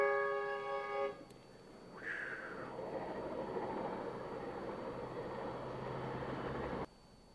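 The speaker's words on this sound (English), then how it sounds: "So thank God that was a commuter train, so I don't have to wait too long." Commuter train passing a rail crossing, heard as a steady, moderately distant rumble and roar lasting several seconds, preceded by a short horn-like tone, then cutting off abruptly.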